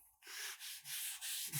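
A bristle sponge rubs avocado oil across a steel griddle top in four or five short, soft scrubbing strokes, faint and close, with no voices.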